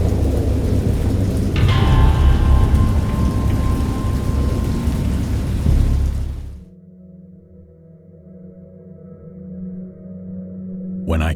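Heavy rain pours steadily with rumbling thunder in a storm at sea, loud and close, then cuts to a much quieter low rumble before another surge at the end.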